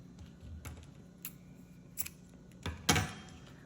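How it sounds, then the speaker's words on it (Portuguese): Scissors snip through crochet yarn on a carrot-shaped crochet planter, a few faint, close clicks ending in one sharper cut against quiet room tone. "Eu vou cortar o fio."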